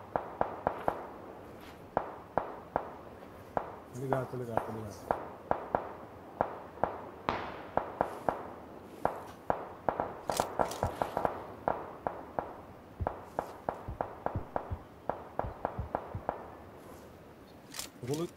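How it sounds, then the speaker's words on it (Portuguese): Gunfire in PlayerUnknown's Battlegrounds cracks as a long run of sharp, irregular shots, some in quick bursts and some spaced apart. It carries on for many seconds at moderate loudness, with someone speaking briefly over it. "Tem, tô ouvindo tiro aqui, ó."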